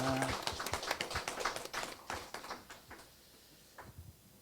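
A church congregation at a Korean worship service claps together in a burst of overlapping hand claps that thins out and stops, fairly faint and roomy.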